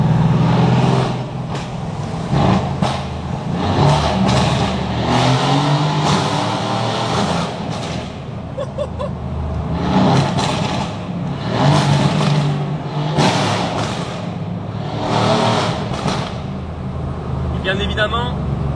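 A Mercedes C63 AMG with a turbo V8 accelerates hard in repeated surges, its deep engine roar rising and falling with gear changes, loud and close from inside the car, with someone talking over it.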